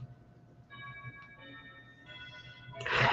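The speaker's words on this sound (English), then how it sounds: "She accidentally pressed the doorbell." An indoor doorbell, pressed by accident, rings out in two faint chime tones, followed by a brief rush of louder noise at the end.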